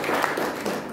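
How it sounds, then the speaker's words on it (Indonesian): Audience at a business seminar applauds, a dense, fairly loud burst of clapping lasting about a second. "Oke, tepuk tangan dulu."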